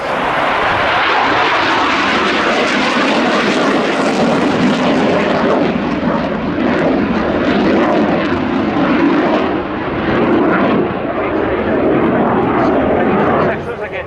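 A MiG-21 LanceR delta-wing jet flies at the Royal International Air Tattoo air show, a loud, sustained engine roar that holds steady and fills the whole stretch with broadband rumble.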